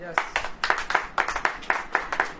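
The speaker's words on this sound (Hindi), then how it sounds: "ताली हो जाएगी।" A crowd at a church sermon claps in quick, even bursts, a rhythmic round of applause heard close and fairly loud.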